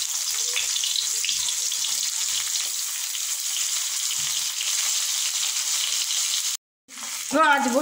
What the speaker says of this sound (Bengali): এবার এই তেলের মধ্যে দিয়ে দিচ্ছি আগে ভোলা মাছটা রান্না করে নেব